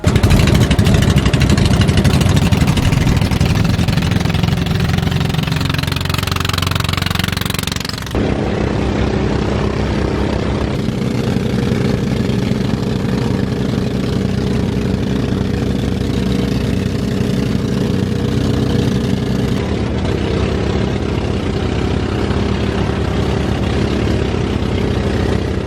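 A faulty boat engine drones loudly and continuously at sea off Basilan, Philippines, shifting to a lower steady hum partway through, with no voices.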